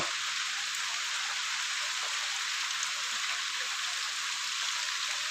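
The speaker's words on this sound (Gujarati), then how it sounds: "હા વરસાદ ચાલુ છે મિત્રો" Steady rain falls continuously, a dense hiss of drops on surfaces with no breaks or voices.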